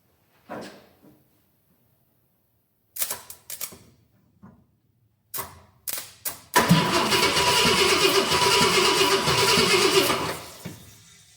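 A 1966 Ford Galaxie 500 with a 390 FE V8 and four-barrel carb cranks in several short bursts of starter whirring, then catches and roars into a steady, loud idle that runs for several seconds.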